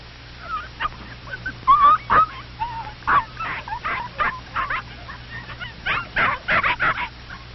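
Several little dogs, puppies, yap and bark in quick, uneven bursts, overlapping at times and growing busier toward the end, fairly close over a faint background hum.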